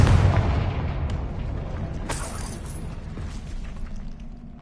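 A Confringo blasting spell bursts in Hogwarts Legacy, a loud low boom opening at once and trailing into a rumbling, debris-scattering decay with a brief bright crackle.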